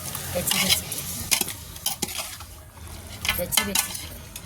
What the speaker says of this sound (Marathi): हे मटण छान हलवून घ्यायचं